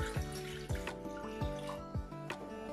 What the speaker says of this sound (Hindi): सबसे पहले हम 1 कप वाटर ऐड करेंगे।